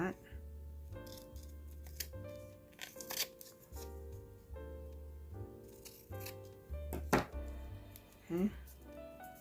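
Scissors snip through lace scraps and paper in a series of short cuts, with rustling, handling knocks and light tapping, near and fairly quiet, with a low steady hum underneath.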